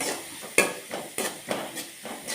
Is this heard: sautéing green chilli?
yes